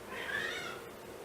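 A house cat gives one drawn-out meow, fairly close and clear, over a steady background hum, with no talking.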